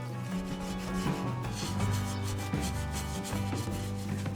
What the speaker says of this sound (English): scrub it with a kitchen scouring pad